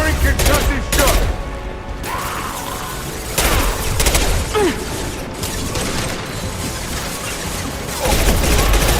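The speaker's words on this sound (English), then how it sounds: "Firing concussive shot!" A concussive shot fired in Mass Effect 2 amid heavy combat noise, with repeated sharp blasts, crashes and mechanical clatter filling the scene, loud and busy throughout without clear speech.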